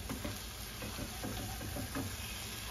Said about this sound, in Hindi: mix it for a minute on a medium flame